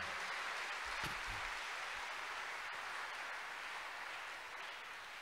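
A congregation clapping at a testimony church service, a faint, steady spread of many hands heard at a distance, with a couple of brief thumps and no clear voices.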